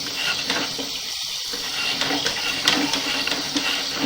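Water runs steadily over a camera lens to wash off fat and grease, a continuous hissing splash with faint rhythmic ticks and clicks throughout.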